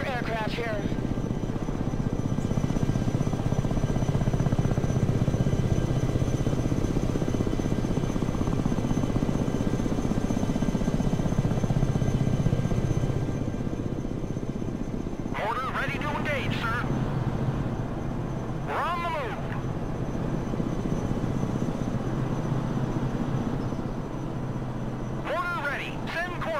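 A tiltrotor aircraft in the video game Broken Arrow gives off a steady, loud rotor and engine drone that holds throughout, while short radio-style voice chatter breaks in over it near the end.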